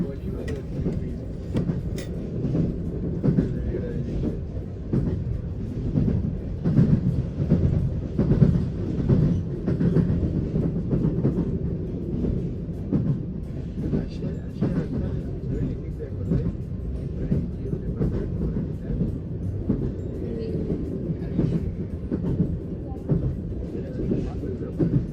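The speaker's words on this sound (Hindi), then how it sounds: "तो ये थी मेरी ट्रेन जर्नी जो अभी आपने देखी।" A passenger train travels on rails on a journey to Mar del Plata in Argentina, with a steady low rumble and rhythmic clickety-clack heard from inside the carriage throughout, loud and continuous, with some voices in the background.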